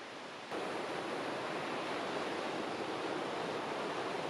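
Steady, broadband rushing water, close and continuous, like a river flowing nearby with no voices.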